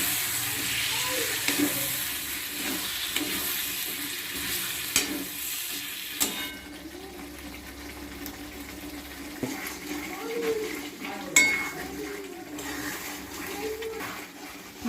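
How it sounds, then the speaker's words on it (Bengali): Chicken being sautéed and stirred in a pan for a Bengali-style yogurt chicken, with a steady sizzle and hiss, scraping stirs and occasional clinks. "ভালো করে কষিয়ে নিচ্ছি।"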